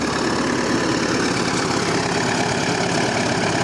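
A homemade tractor's diesel engine idles nearby with a steady, throbbing, rough, knocking mechanical rhythm, constant and loud, with no talking.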